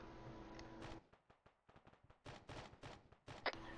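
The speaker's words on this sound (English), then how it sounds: "There's so much shooting around me." Video game gunfire in Cerberus Company: a sustained droning tone breaks off into a rapid burst of sharp shots, followed by clustered, loud volleys of firing nearby.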